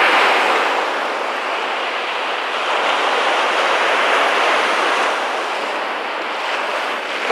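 Sea waves wash steadily in open water, a continuous rushing surf blended with wind buffeting the microphone, loud and close with no talking.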